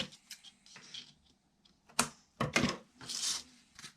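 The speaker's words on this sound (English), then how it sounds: "I need to cut that end off." The end is trimmed off a luxury Christmas card: a few sharp, close cutting clicks and paper rustles in irregular bursts, with no voices.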